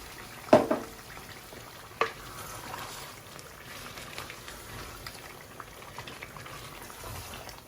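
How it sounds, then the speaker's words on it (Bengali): A little water poured into a simmering lamb and masala curry, a couple of sharp splashes and hisses up front followed by steady soft bubbling and sizzling. "10-15 মিনিট বুনার পরে এখন আমি অল্প করে পানি দিলাম"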